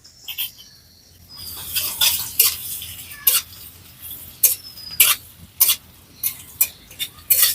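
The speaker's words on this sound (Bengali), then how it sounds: "আদাটাকে হালকা করে একটু ভেজে নেব" Chopped ginger with whole cumin seeds in hot oil gives a close, bright sizzle, broken by repeated sharp clinks and scrapes of a spoon against the pan in an uneven rhythm, with no voices.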